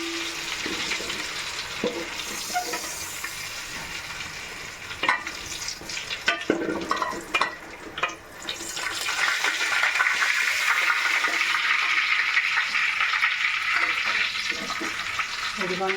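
Mutton keema browning in a pan while being stirred, a steady sizzle broken by clattering scrapes and knocks from the spoon, with bursts of louder hissing later on.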